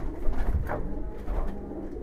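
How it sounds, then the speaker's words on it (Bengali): Kaldom pigeons cooing inside a crowded loft, soft low throaty coos repeating close by over a steady dull background hum, with no one talking. "কবুতর দিয়ে ভরা।"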